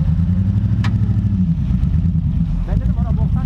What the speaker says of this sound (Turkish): Gaz ver Nusret.